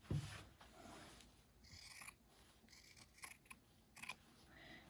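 Scissors snip through the fabric of a tote bag gusset, giving quiet close-up crisp cuts and rustling, with a few sharper clips spaced across the moment.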